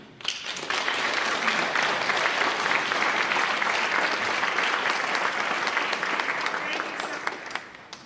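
Audience applause at a James Beard Foundation gourmet celebration gala, a sustained dense wash of clapping from a large crowd that swells quickly and holds steady for several seconds before tapering off.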